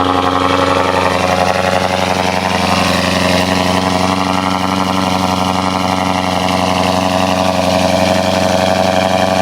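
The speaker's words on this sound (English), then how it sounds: "I'm about to give y'all a little cold start." A BMW M550i V8 idles after a cold start, giving a loud, steady, even engine drone with a constant pitch that holds for the whole stretch and no talking.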